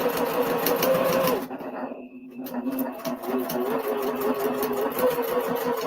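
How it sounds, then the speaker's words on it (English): A sewing machine stitching fabric for paper piecing, a close, rapid rhythmic whirring in two bursts with a short pause between them. "Sounds like I was sewing that time."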